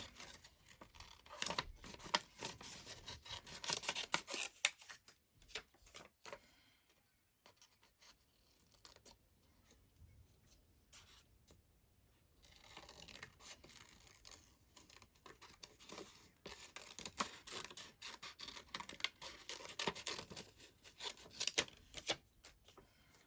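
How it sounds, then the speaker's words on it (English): Scissors snipping and rasping through paper ephemera in close, careful fussy cutting, with bursts of crisp cuts and rustling paper separated by a quieter pause in the middle. "So I try not to take too long fussy cutting it out."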